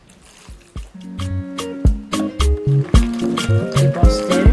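Homemade hand sanitizer gel is stirred in a container, producing a series of wet, squishy, sloshing strokes in an uneven rhythm, close and fairly loud with no talk.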